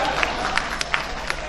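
Audience clapping and cheering from a crowd at a ghazal poetry recital, a steady dense patter of applause with a few sharper claps standing out, heard at moderate distance for a brief moment.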